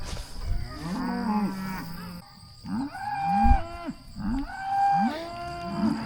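Mashona cross calves and cattle mooing outdoors on a farm, a series of drawn-out moos in overlapping succession, moderately close, with a steady high whine in the background and no talking.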